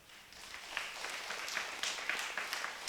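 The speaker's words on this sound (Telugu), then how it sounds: "కొట్టేసారు చప్పట్లు ధ్యానం అనగానే" An audience at a meditation event claps; scattered, moderately loud applause runs throughout, with sharper individual claps popping out above a steady patter.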